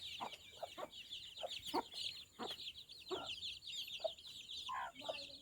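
Two mother hens that hatched chicks at the same time cluck low and steadily while their chicks keep up a constant stream of high, rapid peeping, all close by and without speech.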